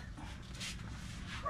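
Several dogs make soft, distant yips and whimpering barks in a home setting, faint against low background noise.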